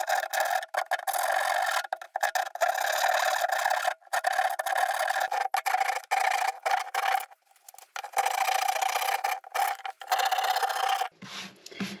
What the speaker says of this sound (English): I've got the handy dandy wood rasp. So I'm going to see if I can clean the edges up a bit